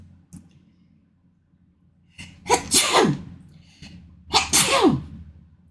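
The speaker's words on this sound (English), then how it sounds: "I think I'm going to sneeze" A person sneezes twice while stitching, each sneeze a sharp, loud burst with a short breathy intake before it, the two separated by a brief pause in an otherwise quiet room.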